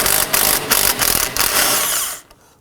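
A power tool spins a 16mm socket on an extension to loosen the ball joint pinch bolt on the front steering knuckle of a 2005-2009 Subaru Legacy. It makes a steady, loud, pulsing whir for about two seconds, then cuts off abruptly.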